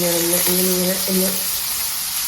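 Chopped chicken pieces frying in a pan with little oil give a steady close sizzle throughout, while a tonal hum or voice sounds over it in the first second and a half.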